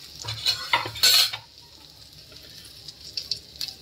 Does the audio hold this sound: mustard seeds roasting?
yes